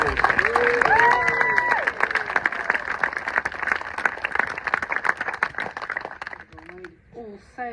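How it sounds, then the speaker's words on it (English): Crowd at a Suffolk medal celebration cheering and applauding, sustained clapping with raised voices and whoops on top, tapering off near the end as a voice speaks. "Give me a big cheer and a round of applause."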